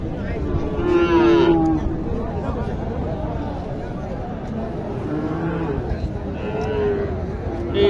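Cattle at a livestock market giving several drawn-out moos, fairly close, over a busy background of crowd noise and voices.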